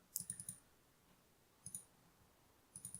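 Mouse clicks while working in Visionaire Studio software: a quick run of four soft clicks, then a pair, then a final three, faint and close in an otherwise quiet room.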